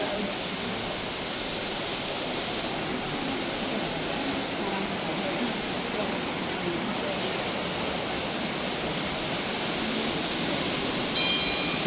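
A river flowing past its right bank near the Tapkeshwar Mahadev temple in Dehradun, a constant loud rushing hiss like a waterfall that stays even throughout with no clear pauses.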